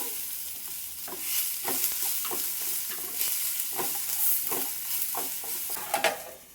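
Ivy gourd cooking in a pan with tamarind stirred in, a steady close sizzle broken by repeated scraping stirs of a spoon against the pan.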